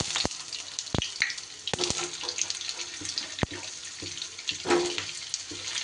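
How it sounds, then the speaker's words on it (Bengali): Pointed gourds (potol) dropped into hot salted mustard oil, a loud close sizzle with sharp clacks and knocks from the pieces and utensil, the hiss swelling and rushing in bursts. "এইবার আমি তেলের মধ্যে আগে পটলগুলোকে দিয়ে দিই।"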